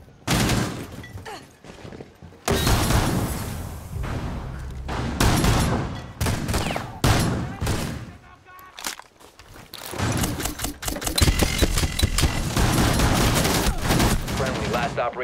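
Rapid bursts of gunfire and automatic weapon fire in the tactical shooter Rainbow Six Siege, during a Coastline team deathmatch, loud and near with repeated volleys, explosions and footsteps throughout, voices briefly heard.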